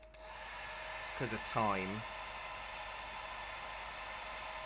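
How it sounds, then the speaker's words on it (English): A hairdryer blows over wet acrylic paint on a landscape painting of Paxton's Tower in Wales, giving a steady, even airy whoosh throughout, with a brief spoken phrase partway in. "So I might have to whack the hairdryer on this"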